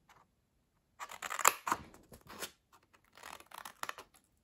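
Scissors snip and slice through paper for a handmade paper tote bag, several close cutting strokes in two separate bursts with quiet gaps between them and no talking.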